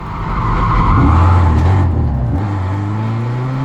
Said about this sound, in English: Atlee's race effectively over before it started after a wild early slide